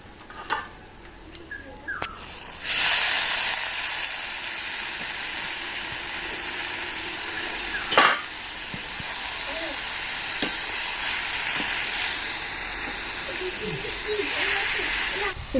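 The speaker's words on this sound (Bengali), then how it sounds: "পেঁয়াজটাকে হালকা একটু ভাজাভাজি করে নেওয়ার পরে ভাপিয়ে নেওয়া লাউটাকে এবারে ঢেলে দেবো।" Chopped onion and steamed bottle gourd sizzle steadily in a hot pan with turmeric, a continuous frying hiss broken by occasional stirring scrapes and a sharp clink near the middle.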